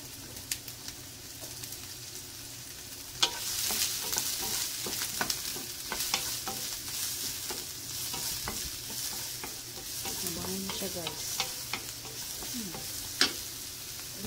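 White onion sautés in a pan, a continuous gentle sizzle broken by intermittent spatula scrapes and clicks, with no voices.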